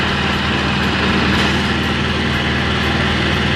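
A tractor engine runs steadily nearby, a continuous low mechanical rumble with a rhythmic chugging throb and no pauses.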